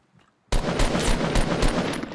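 Sustained automatic gunfire in Fortnite Battle Royale, bursting in loudly after a brief near-silence and continuing as dense, rapid repeated shots with no talk over it.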